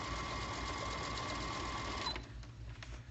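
A sewing machine stitches a decorative pillow cover with a steady, close whirring hum that runs for about two seconds, then stops, leaving a quieter room.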